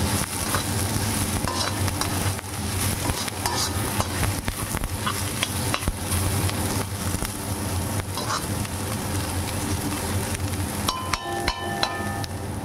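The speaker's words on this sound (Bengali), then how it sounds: "ক্যাপসিকাম দিয়েও ভালোভাবে নেড়ে চেড়ে ভেজে নেব" Carrots, peas and capsicum stir-fry in a pan over a medium flame, sizzling steadily and loudly with frequent scrapes and knocks of a stirring spatula throughout, no voices.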